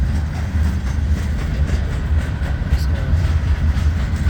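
An eastbound CSX mixed freight train of box cars rumbles past slowly and steadily with a low, continuous roar and faint rhythmic clatter of rail cars rolling by, loud and close throughout.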